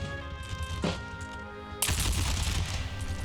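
A massed musket volley crashes out suddenly in an Empire: Total War battle, a dense burst of overlapping shots that then rattles on as continued gunfire over a low hum, preceded by a single sharp crack.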